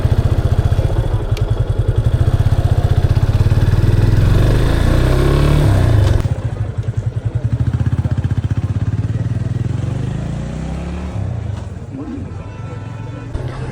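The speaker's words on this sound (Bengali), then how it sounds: "এই ইয়ামা অ্যাপজেড টু ফাইভ বাইকটাও খুব সুন্দর টান উঠতেছিল পিক আপ দিলেই সাথে সাথে টান" A Yamaha FZ25 motorcycle is ridden on a test ride. Its engine drones loud and close under throttle, then eases off partway through as the note drops and grows quieter toward the end.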